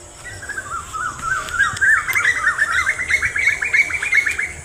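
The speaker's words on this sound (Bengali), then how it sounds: "কত সুন্দর পাখির ডাক পাবেন শুনতে," Many birds call and chirp at dusk beside a river among trees and farmland, a steady run of bright repeated notes from several birds, moderately close, with no voices.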